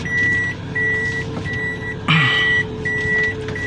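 A truck backs up with a steady repeating reversing beeper sounding in short evenly spaced pulses over a low idling engine, with a brief louder clatter partway through.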